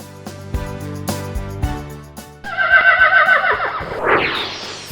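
A horse neighs loudly in a long, shaking whinny that falls away at the end, with no talk over it.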